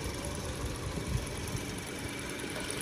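A 2011 Toyota Yaris automatic idles with a steady, even engine hum heard close up under the open hood, smooth and unbroken for a few seconds with no talk.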